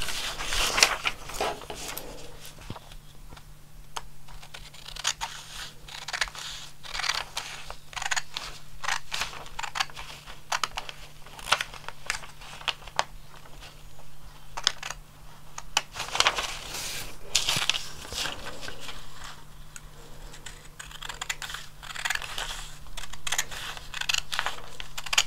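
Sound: cutting through a paper sewing pattern

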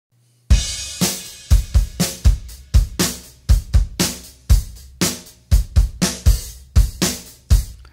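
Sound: live played drum kit without compressor

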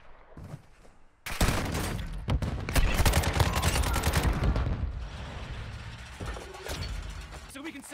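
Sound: gunfire in the video game Warzone Mobile

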